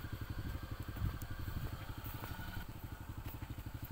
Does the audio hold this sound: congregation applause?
no